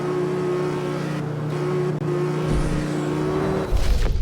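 A Nissan 370Z engine in CarX Street roars loud and steady at high revs with a constant whine, then surges harder near the end as nitrous kicks in.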